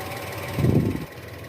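A car engine idles steadily as it warms up before an oil change after sitting unused for nearly a week, with a low continuous hum that briefly swells louder midway.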